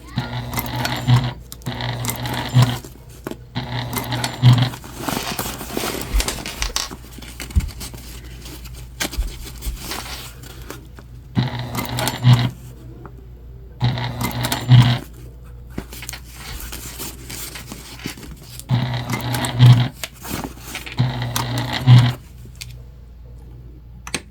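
A sewing machine stitches a convertible bag in repeated short bursts of rapid mechanical whirring, separated by pauses with faint handling clicks, close and clear.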